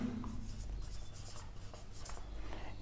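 Pen or pencil scratches across paper in short, quiet strokes while a geometry proof is written out, soft and close with no speech.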